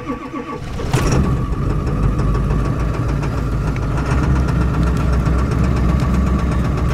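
A Toyota Supra engine catches with a sharp burst and settles straight into a loud, steady idle with a slightly rough, knocking texture, heard close up with no talking.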